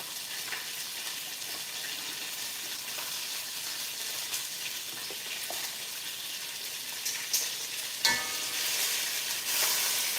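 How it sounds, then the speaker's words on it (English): Pieces of chicken sizzle and crackle in a hot cooking pot of stew chicken, a steady bright frying hiss throughout with a few louder spits and stirring clatters near the end, no talking. "I'm just adding more chicken into my pot"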